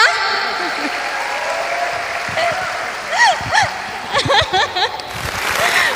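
Applause from an audience at an Indonesian public talk welcoming two national figures, a steady wash of clapping with cheers and whoops rising over it through the middle.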